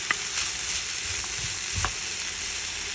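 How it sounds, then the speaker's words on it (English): Potatoes with peppers and onions frying in a pan, a quiet steady sizzle with a few soft clinks and stirring bumps. "We are going to go ahead and add our potatoes."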